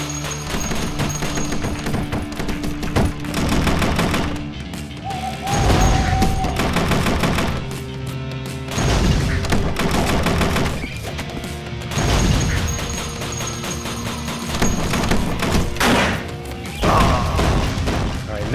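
Repeated bomb explosions blast hatches in the video game Bombslinger, heavy booms and crashes recurring every few seconds over looping game music.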